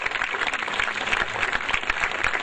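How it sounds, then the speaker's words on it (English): Dense, steady clapping from an audience at a school valedictory ceremony, a continuous wash of applause heard alone at moderate loudness. "Can the gallery please give a big round of applause to all the stars who have made us what"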